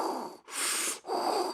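Heavy, loud breathing through a cloth face mask, Darth Vader style: a hissing breath pause then another, each lasting about half a second, close and with no talk.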